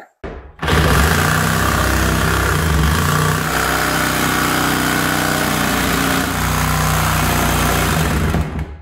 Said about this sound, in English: Now I have to go get another saw to cut the back.